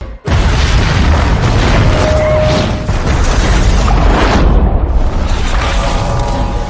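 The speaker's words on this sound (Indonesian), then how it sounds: "percikan dari sebuah listrik membuat sebuah ledakan yang sangat besar" A massive, roaring explosion set off by an electrical spark fills the whole clip, a loud sustained rumble of blast and debris with no voices.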